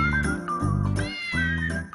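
Loud, close cat meows from a pet left alone in a 40 square meter apartment, two long drawn-out cries in succession with a faint jingle, no speech.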